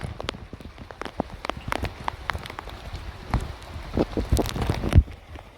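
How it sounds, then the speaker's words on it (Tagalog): Scattered raindrops tap irregularly on a nearby surface on a mountain trail, a patter of sharp little ticks and thuds growing slightly busier toward the end. "Umuulan."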